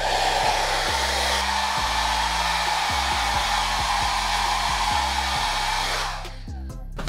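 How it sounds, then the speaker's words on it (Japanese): Hair dryer blowing on short men's hair during a styling session, a loud steady rush of air throughout, with the tone shifting near the end as it switches to cool air. "サイドからこう中心に向かってドライヤーをかけて、左右に振りながら中心に持っていくような感じでかけると綺麗な形 になると思うんで"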